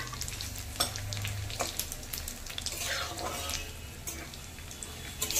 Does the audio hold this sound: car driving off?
no